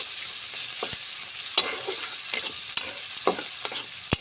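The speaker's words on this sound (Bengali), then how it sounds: "পেঁয়াজ রসুন কুচি একটু সুন্দর করে ভাজা ভাজা করব" Chopped onion and garlic, with bay leaves, fry in hot oil with a steady close sizzle while a utensil scrapes and taps the pan every second or so; no one speaks.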